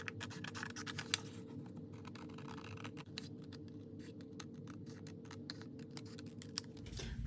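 Scissors cutting out paper junk journal tags, a quiet, close series of short snipping and scraping strokes in an uneven rhythm, with no talking.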